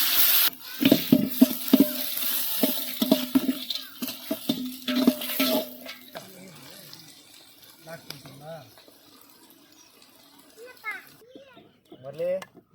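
Onions sizzle and get stirred in a pan for village-style mushroom biryani, a steady frying hiss that fades after the first half while adults and children talk loudly over it.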